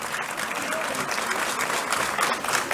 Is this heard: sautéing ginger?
no